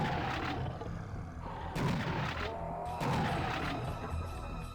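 Shotgun blasts and explosions from the Serious Sam video game, three heavy booming bursts with roaring, crashing tails, loud and close with no talking.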